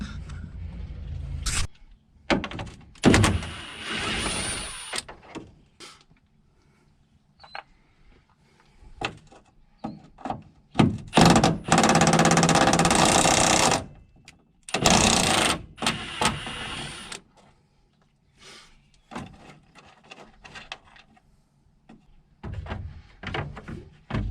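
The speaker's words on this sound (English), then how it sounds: "So we'll go ahead and undo these bolts." Bolts being undone on the headlight fairing of a 2006–2008 Freightliner Century truck: scattered clunks, ratchet and wrench bursts and scraping, some loud and close, broken by quiet gaps.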